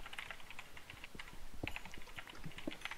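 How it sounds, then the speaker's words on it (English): Quick, clattering taps on a computer keyboard come in an uneven stream of keystrokes, close-up and without any talking. "Your keyboard is so loud,"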